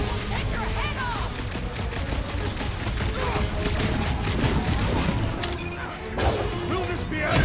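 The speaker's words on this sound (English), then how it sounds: "Trust me, those Nova Corps cannons will take your head off." Nova Corps cannon fire in the Guardians of the Galaxy PS5 game: dense rapid bursts of blasts and crashing impacts, loud and continuous, with occasional voices in the mix.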